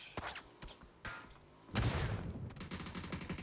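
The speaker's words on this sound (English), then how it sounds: "Schiller already with the shotgun right in your face, Akim." Gunfire in PUBG erupts as a few sharp separate shots followed by a dense close-range burst of rapid fire and impacts, loud and without commentary over it.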